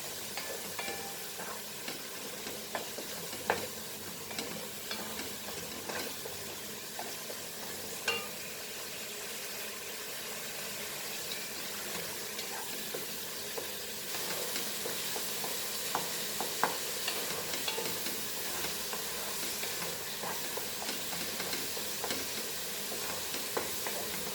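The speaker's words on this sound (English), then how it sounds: "Fry the tomatoes very nicely for 5 minutes." Tomatoes fry in a pan for a Kolhapuri dry mutton dish, giving a steady broadband sizzle with occasional scraping stirs and small pops throughout, fairly close and continuous with no talking.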